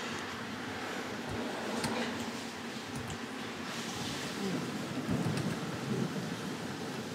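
Rain falls steadily with rumbling thunder in the Kainga: Seeds of Civilization game, a continuous wash of rainfall with a low rolling rumble building near the middle and end, under faint background sounds.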